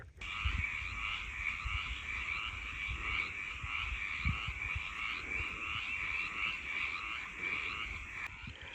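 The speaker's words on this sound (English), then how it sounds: "Those are mountain chorus frogs." Mountain chorus frogs call outdoors in spring, a dense, continuous chorus of rhythmic trilling croaks at moderate distance, with no talk.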